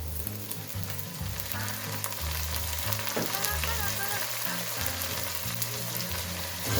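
Masala with turmeric, black pepper, salt and tomatoes sizzles loudly in a pan while being stirred, a dense continuous frying hiss with scraping strokes and a steady low hum beneath, no talking.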